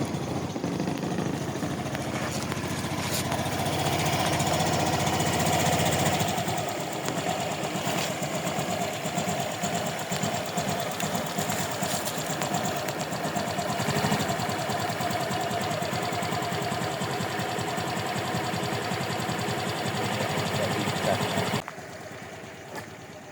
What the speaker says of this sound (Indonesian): di sini langsung saya hidupkan saja ya Mas motornya